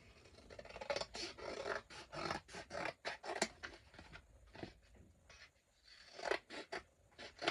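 Scissors snip through paper, likely recipe-book pages, in a quiet indoor setting, giving irregular, soft, close rasping cuts and rustles with brief pauses between strokes.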